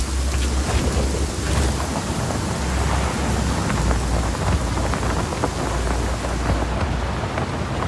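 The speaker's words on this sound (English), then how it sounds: "Storm's rolling in." A thunderstorm in the video game Just Cause 4 brings dense, heavy rain pattering without pause, with low thunder rumbles rolling underneath. The storm is loud and continuous, and no one speaks.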